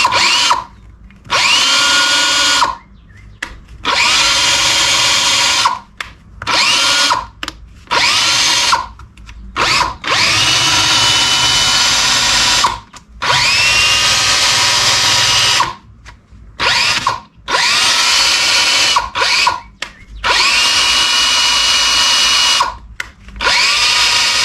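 A DeWalt XRP 18V NiCad cordless drill with a weak battery whirs in repeated bursts, its motor revving up and stopping many times with short silent gaps between runs.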